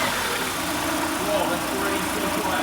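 A worn car nicknamed the Goober idles after a fill of thick 40/70 oil, giving a steady, fairly loud, even drone with people talking over it.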